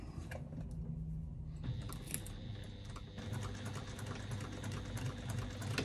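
Sewing machine back stitching a seam with a quarter-inch allowance, a quiet rapid run of close stitching taps, briefly pausing and then resuming at a steady pace.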